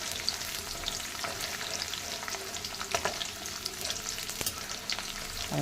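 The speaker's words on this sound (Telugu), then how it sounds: "వెల్లుల్లిపాయలు ఉల్లిపాయలు వేగే వరకు హై ఫ్లేమ్లోనే ఉంచుకోవాలి" Garlic and onions fry on a high flame, giving a continuous moderate sizzle with scattered crackles and stirring scrapes, close by and without talk.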